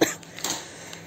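A single short cough, close and abrupt, followed by a brief faint breathy sound.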